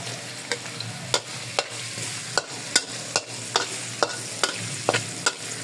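Onions sauté in a pan for a creamy beef and mushroom dish, a steady sizzle punctuated by about a dozen sharp, regular scrapes of a utensil stirring, close and distinct, no voices.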